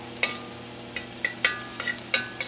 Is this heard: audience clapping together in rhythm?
no